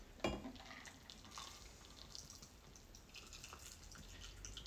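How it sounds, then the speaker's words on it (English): A tropical cocktail poured into a glass, a soft liquid splash and trickle at the start that settles into faint dripping, quiet and close. "and we're just gonna pour this in."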